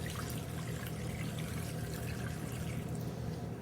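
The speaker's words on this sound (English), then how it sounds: "And then we're going to add in 4 cups of water." Four cups of water poured into a pot holding butter, a continuous close, soft rushing pour with a low sloshing body and no talk.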